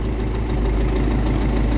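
A boat engine idling steadily just after starting, a loud, close, continuous low rumble with an even, slightly knocking throb and no speech.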